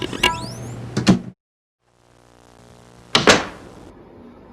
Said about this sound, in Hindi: दरवाजा बंद कर देना।